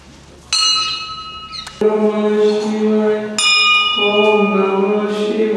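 A hand-rung temple bell struck three times, each bright metallic clang ringing out with long, shimmering overtones that overlap as the next strike lands, loud and close.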